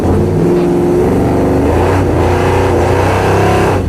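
A car accelerating hard on an autocross course with nitrous, its engine loud and close, revving and rising in pitch through the gears over a constant drone, with no voices.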